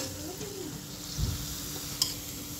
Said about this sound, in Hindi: जो दूसरी स्टेप की डाली थी वो भी बहुत अच्छे से फ्राई हो गई